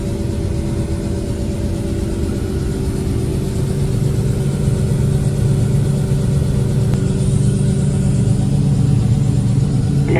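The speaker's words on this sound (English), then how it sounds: "Traffic sitting up at the entrance to this little section." Car engines idle and rumble steadily in traffic waiting at a field entrance during corn harvest, a constant loud low drone throughout with no one talking.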